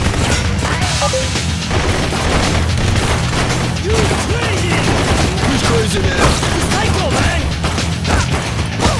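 Sustained video game gunfire aimed at a shark in Blue Estate, a dense, continuous barrage of shots and booms with music and effects layered underneath.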